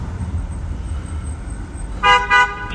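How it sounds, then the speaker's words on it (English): Two short car horn toots, loud and close, cutting in after a stretch of low road and engine rumble. "How about you stop honking because you were in the wrong lane?"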